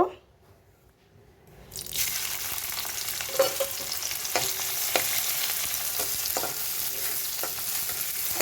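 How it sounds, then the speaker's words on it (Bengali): A handful of onions hits hot oil in a pan for an okra stir-fry and bursts into loud, steady sizzling after a quiet start, with occasional sharper crackles and stirring scrapes over the continuous frying hiss. "তেলটা মনে হয় হয়ে গেছে আমি এক মুঠো পেঁয়াজ দিয়ে দেব"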